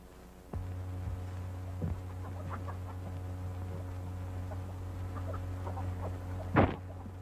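Chickens cluck in short, scattered calls over a low steady hum in an old 1934 film soundtrack. A few louder bumps break through, and the whole scene stays fairly faint.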